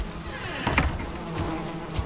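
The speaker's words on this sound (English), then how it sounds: "excuse me, bees." Bees buzz steadily in the Valheim video game, a continuous insect drone with a brief swell partway through and no talk over it.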